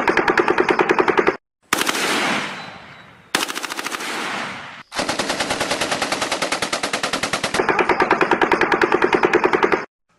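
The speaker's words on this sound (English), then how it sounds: "it's a belt-fed light machine gun." A belt-fed light machine gun fires in long, rapid automatic bursts separated by short pauses, each burst a dense rattle of sharp cracks with ringing echo trailing off between strings of fire.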